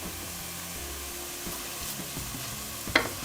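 Garlic and mushrooms sweating gently in a pan for lasagne bolognese sauce, a soft steady sizzle with occasional stirring scrapes and a brief clink near the end.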